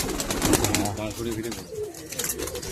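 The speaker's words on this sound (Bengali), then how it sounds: "জোড়া পায়রা দেখালাম, ভিডিও বড় হয়ে যাবে তো সেই জন্য। দেখুন পায়রা দেখুন।" A pair of Bengal pigeons coo softly in a loft, their low rolling calls mixed with people talking nearby throughout.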